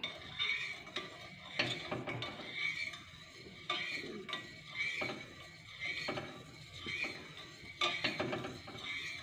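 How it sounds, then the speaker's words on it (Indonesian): Soft scraping and clinking of a utensil stirring goat milk in a pan as it heats, repeated in short irregular strokes, close and fairly quiet. "Nah, sambil diaduk."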